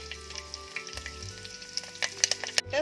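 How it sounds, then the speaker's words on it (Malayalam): Crushed masala sizzles in a pan as a utensil stirs it, giving a close sputtering crackle with scattered sharp scraping taps over a low steady hum. "നന്നായിട്ടൊന്ന് ഇളക്കി കൊടുക്കണം. പച്ചമണം മാറുന്നത് വരെ ഇളക്കി കൊടുക്കണം."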